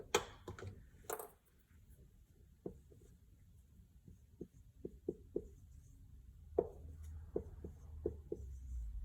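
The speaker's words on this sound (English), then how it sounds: "So let me write down the y." Pen or marker writing on a surface, heard as a series of short, crisp taps and strokes spaced irregularly over several seconds, close and fairly quiet, after a brief scratchy burst at the start.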